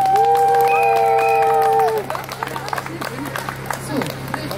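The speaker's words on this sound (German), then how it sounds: "Großen Applaus" A crowd claps and cheers after a brief tonal sound fades, the applause spread and moderately loud.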